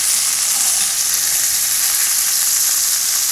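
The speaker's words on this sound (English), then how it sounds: "You want it to get a really nice sear." Fish sears in a hot pan, giving a loud, steady hiss of frying oil that holds evenly throughout, close and with no talking.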